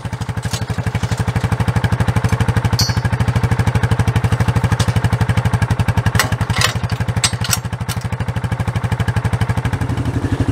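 A tractor-pulled brush mower runs in a field with a steady, loud, rapidly pulsing engine chug, joined by occasional clattering knocks.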